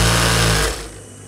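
A sewing machine stitches a seam on palazzo pants, running loudly and close for under a second before winding down to a quiet stop.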